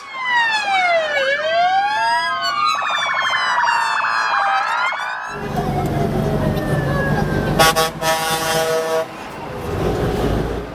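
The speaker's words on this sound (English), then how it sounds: "right at the back we have a fire engine and an ambulance" Wailing fire engine and ambulance sirens sweep up and down, then give way to loud horn blasts and a rapid yelping siren, all close and continuous, during a truck convoy.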